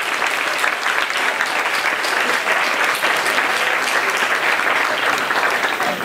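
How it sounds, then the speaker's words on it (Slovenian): An audience applauds a quiz's participants, a dense, steady clapping that holds at full strength for the whole stretch with no voices on top. "Hvala lepa in še en aplavz."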